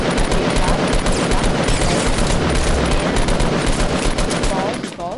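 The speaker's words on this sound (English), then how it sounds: "Guy's shooting me." Dense, continuous automatic gunfire in the video game Fortnite, loud and close, with rapid overlapping shots and booms filling the whole stretch before easing slightly at the end.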